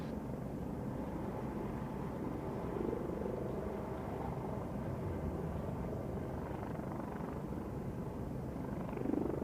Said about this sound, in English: And makes the helicopter much quieter as well,